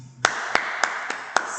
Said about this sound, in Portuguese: Salva de palmas para o assunto.